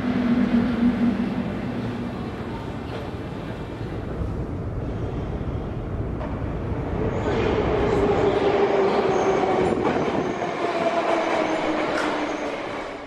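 A metro train runs through the Minsk underground, a steady loud rumble of wheels and carriages with rising and falling roar and faint squeals, no voices.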